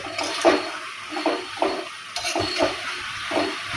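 Spoon stirring a puffed rice khichdi mixture in a pan over the stove, a series of soft scraping and rustling strokes, close and moderately quiet.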